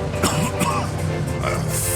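A man coughs and clears his throat roughly, strained and close, over a steady layer of background sound, a character with injured ribs in the video game Mafia II.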